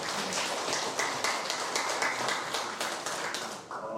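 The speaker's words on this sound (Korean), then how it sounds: "우리 김 목사님께 한번 큰 박수 한번 해주십시오." Hands clap in a congregation at a national veterans' prayer meeting, giving a soft, even patter of applause at moderate distance throughout.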